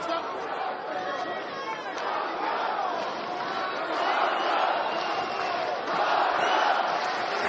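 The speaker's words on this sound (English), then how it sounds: "Crowd getting into it." Boxing arena crowd chatters and swells with rising cheers at a heavyweight bout, a dense, continuous wash of many voices at moderate distance, with shouts peaking toward the end.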